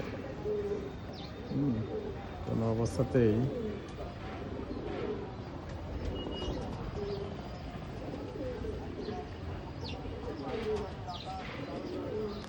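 Cooing from a Naktana pigeon, a Bangladeshi breed, repeats low and fairly close, strongest in the first few seconds, with someone speaking over it and faint chirps in the background.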